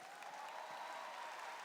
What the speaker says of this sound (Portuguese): Vamos acolher o pessoal de casa com uma salva de palmas também